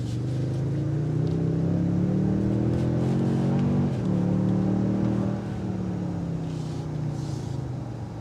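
The twin-turbo engine of a 2022 Toyota Tundra 1794 Edition pulls steadily, its drone rising, dipping briefly, then rising again. The sound is heard from inside the cab at moderate level, with no voices.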